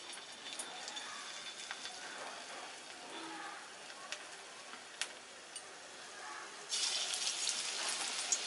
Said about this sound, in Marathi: तर आता आपण याला मस्त काढलेल्या तेलात फ्राय करून घेऊया